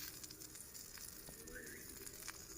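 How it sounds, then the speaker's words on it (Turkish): Sucuk Turkish sausage sizzles over an outdoor cooking fire, a faint steady crackle and hiss with occasional small pops, no voices. "Cayır cayır pişiyor."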